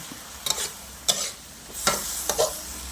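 Sliced Thai round eggplant stir-fried with added water, a few sharp scraping stirs over a soft sizzle, close and clear with short gaps between strokes.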